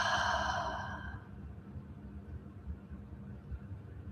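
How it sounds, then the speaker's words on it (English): A deep, breathy exhalation during guided meditation, a soft airy rush that fades out within about a second, leaving low, quiet room noise. "and breathe out."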